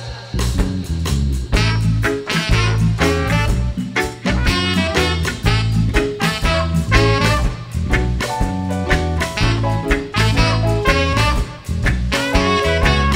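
A band with a brass section plays a song, with loud, punchy horn lines over driving drums and bass in a dense, continuous passage.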